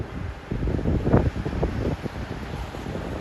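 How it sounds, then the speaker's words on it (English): Gusty, cold wind on a New York City street buffets a microphone in low rumbling bursts, with a stronger gust about midway through; no voices. "Indeed, it's windy and cold."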